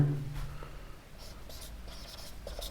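A question being written out by hand for a maths lesson, soft scratchy pen strokes on paper in short close bursts, quiet with faint whispering breath around them.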